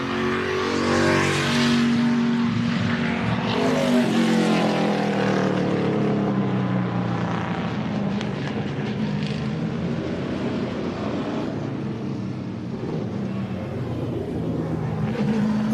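A NASCAR Cup stock car engine runs loud and steady at the M1 Concourse in Pontiac during the American Speed Festival, a continuous roar with shifting pitch as the car moves, no talk over it.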